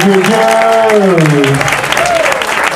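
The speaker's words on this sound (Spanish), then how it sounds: "¡Un aplauso, Balock, por favor!" Audience applause at a locking dance battle, a steady broadband clatter of clapping running the full length under an announcer's loud amplified voice.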